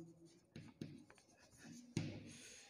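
Chalk or marker writing on a classroom board, a few scratchy strokes with soft taps and pauses, fairly close and quiet.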